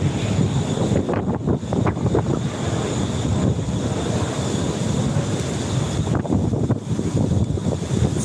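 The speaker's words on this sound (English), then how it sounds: "It's getting windy out." Steady wind buffets the microphone on a Financial District street in New York City near the Staten Island Ferry, a continuous loud broadband rush with gusts, no talking.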